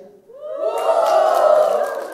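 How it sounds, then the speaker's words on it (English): A crowd of women in the audience at a stand-up comedy show at a conference lets out a loud cheer that swells and holds steady, whooping together. "Women above the age of 30, give me a cheer."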